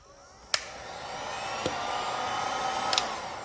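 Heat gun warming vinyl wrap on a Can-Am Ryker, a steady airy blowing hiss with a few sharp clicks or taps scattered over it, close and moderately loud.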